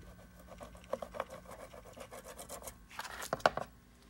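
A chisel or utility knife scrapes old paint off a reused cylinder head gasket, giving short, quiet rasping strokes with a louder, harsher burst of scraping near the end.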